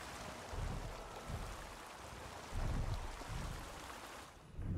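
River water rushes steadily in the dinosaur park game Prehistoric Kingdom, a continuous broad wash at moderate loudness with periodic low surges and no talking.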